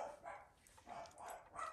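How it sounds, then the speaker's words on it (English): Several dogs barking and yipping excitedly from a floor below, muffled and fairly faint, in short bursts spread across the moment. "sorry about the dogs going crazy downstairs."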